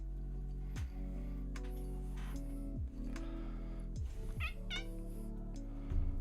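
Pet cat meows repeatedly indoors, several drawn-out, wavering calls with short pauses between them, close and fairly quiet, no voices.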